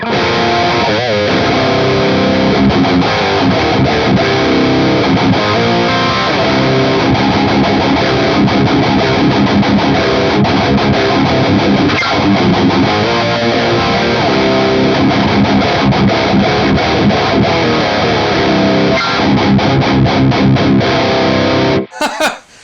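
Electric guitar played through two stacked TMD/Pepers' Satanist preamp pedals, a loud, dense, heavily distorted wall of noisy riffing that runs almost continuously and cuts off abruptly near the end.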